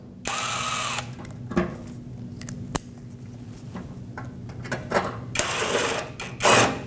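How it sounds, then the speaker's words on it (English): Small 10mm headed bolts are driven into an underside shield on a 2005-2021 Nissan Frontier bumper, heard as short bursts of tool whirring at the start and end with scattered clicks and clunks between. "Now from underneath, push this shield back up and install the 2 small 10mm headed bolts."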